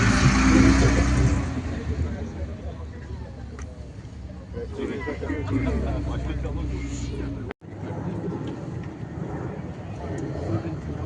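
A Porsche rally car arrives at a stage finish during the Tour Auto at Toulouse Blagnac. Its engine rumbles loudly up close, then settles into a lower idle while a commentator talks over it.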